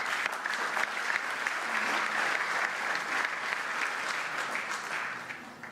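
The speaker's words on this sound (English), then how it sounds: "So a warm applause for our first keynote speaker, Ruud Veltenaar" Conference audience at a WorldSkills event in Amsterdam giving sustained applause for a keynote speaker, a dense, even patter of many hands from a large hall that holds steady and then begins to taper near the end.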